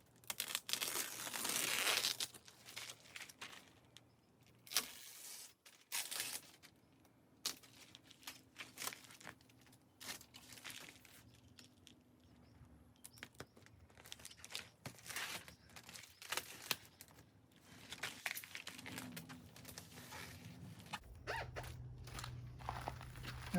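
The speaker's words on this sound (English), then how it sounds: "I'm going to cut this off so it doesn't get caught on there." Excess plastic wrap is trimmed off around a shed window, with loud crinkling and crumpling of the film, tearing and snipping, and intermittent rustling handling noises at close range, with no talking.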